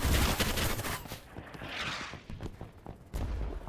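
Automatic M4A1 rifle fire in Battlebit Remastered, a dense rapid burst of gunshots with loud impacts at start and end, busy mid-section of overlapping shots and clatter, no voices.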